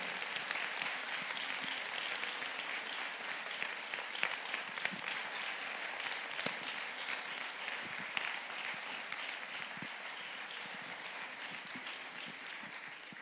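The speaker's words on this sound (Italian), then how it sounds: "io vi chiedo un grande applauso per i nostri ragazzi Matteo, Ludovico, Nicole, Costanza e Alessio" An audience gives sustained, even applause for a group of students at a school event, dense clapping continuing at steady strength for over ten seconds, fairly distant with no voices.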